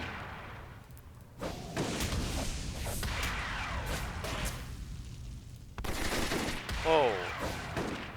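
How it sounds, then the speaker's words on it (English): An auto turret fires in City of Heroes: repeated loud bursts of gunfire and heavy impacts through the clip, mixed with game effects and a brief electronic tone. "That auto turret is still hitting me with a loot on."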